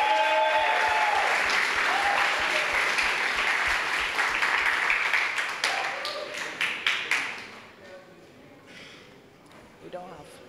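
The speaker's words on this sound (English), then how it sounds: "Please join me in giving them a really big round of applause." Poetry event audience applauding performers: loud, sustained clapping from a crowd that thins into a few scattered claps and fades to near quiet, with voices faintly present underneath.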